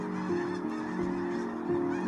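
Sandhill cranes calling at a wetland roost near Lodi, California: a steady chorus of loud, repeated trumpeting and honking calls that overlap continuously, with no one speaking.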